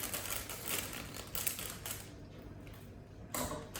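A brownie mix packet being cut open, with close, crisp crinkling of the plastic and short snipping scrapes in bursts, briefly quieter before a final rustle.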